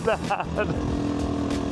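A cheap 250cc motorcycle from Walmart running with no muffler: a loud, raspy, steady exhaust drone holds throughout, with someone talking over the start.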